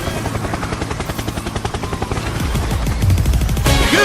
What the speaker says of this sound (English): Can you hear the sound? A helicopter.